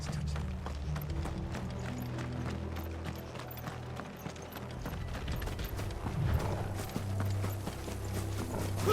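Horse hooves gallop in a steady clip-clop rhythm during Final Fantasy 16 gameplay, set against a loud, dense game score and battle noise that partly masks the hoofbeats.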